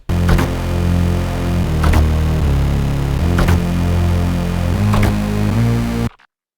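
Thick, layered synth bass pulses beneath a dense electronic melody, with sharp rhythmic hits every second or so before cutting off abruptly.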